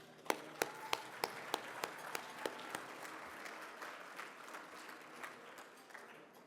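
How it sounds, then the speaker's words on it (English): Audience at a city's state of the city address applauds, sharp individual claps at first quickly swelling into a steady round of clapping that gradually thins out. "Let's give them a round of applause."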